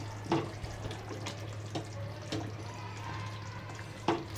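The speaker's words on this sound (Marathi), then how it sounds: "बघा किती मस्त अशी उकळी आलेली आहे भाजीला." Bhogichi bhaji, a vegetable curry, boiling in a pot, with soft scattered bubbling pops over a steady low hum and no talking.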